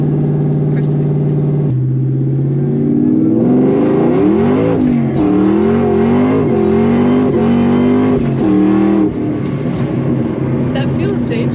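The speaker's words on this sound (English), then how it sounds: "That was a lot of wheel spin." A 2003 SVT Cobra tuned past 800 horsepower accelerates hard with wheel spin, its engine note rising and surging loudly for several seconds while people talk over it inside the car.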